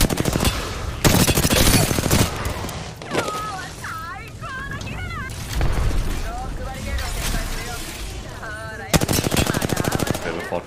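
Rapid automatic gunfire in a shooter video game, loud bursts at the start and again near the end with scattered shots and booms between, while players talk over the fight.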